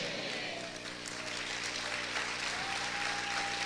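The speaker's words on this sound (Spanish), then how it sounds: "Aplaude fuerte al Señor." A church congregation claps loudly for the Lord during a Spanish-language sermon, a thick, sustained wash of many hands over a steady low musical drone, with no one speaking.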